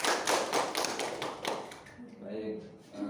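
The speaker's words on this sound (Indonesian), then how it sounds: "Tepuk tangan Mas Reza" First-grade pupils in a primary-school maths microteaching class clap for a classmate. A quick, close burst of hand claps lasts about two seconds, then fades as an adult voice begins speaking.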